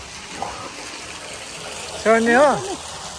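Steady rushing water fills a water play spot at Aina Pahara, a constant broadband wash with a brief voice speaking briefly near the end.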